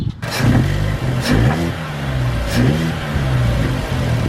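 A car engine with a performance air filter revs repeatedly, deep throaty rises and falls in pitch with a loud, breathy intake roar, close up and continuous.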